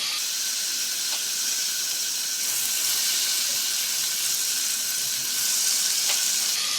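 Butter and olive oil, about two spoonfuls each, sizzle in a frying pan with a steady, close, even hiss that grows slightly louder toward the end.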